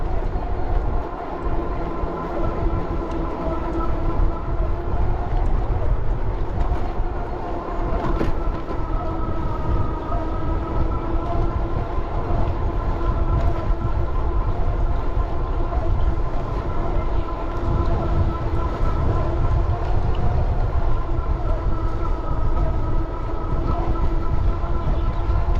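Riding aboard an Amtrak Surfliner passenger train, a constant loud rumble of wheels on rail fills the cabin, with steady tonal motor hum and occasional rattles throughout.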